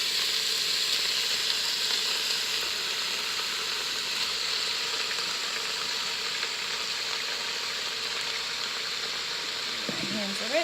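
Beef pieces browning in a hot Instant Pot for Mongolian beef, giving a steady, fairly loud broadband sizzle that holds evenly from start to finish, with a brief clatter near the end.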